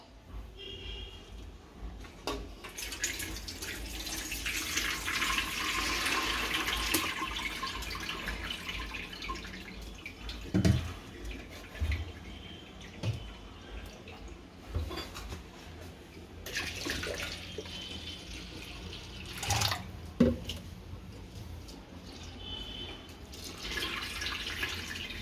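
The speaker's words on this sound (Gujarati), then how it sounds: "પહેલાં તો દાળમાંથી બધું જ પાણી નીતારી લેશું।" Water drained from soaked moong dal for a Gujarati namkeen snack: a soft running trickle and splash close by, with occasional louder drips and knocks, and no clear speech.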